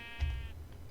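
A sheep in the Minecraft Pixelmon video game gives a single short, nasal bleat, loud and close, and then it fades.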